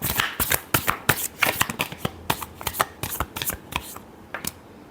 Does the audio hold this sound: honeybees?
no